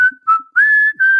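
Person whistling the show's theme tune in a few short, clear, close phrases, the melody sliding between sustained notes with brief pauses, no talking.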